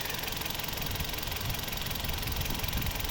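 A well-warmed 2012 Toyota RAV4 with a 2.0 petrol engine and automatic gearbox idles close by, giving a steady, even mechanical hum with a faint knocking texture and no voices.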